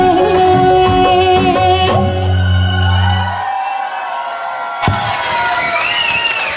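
Audience at a Magar community Maghe Sankranti gathering in New York cheers after a children's dance, a loud crowd roar over fading music that trails into a softer swell of whoops and clapping.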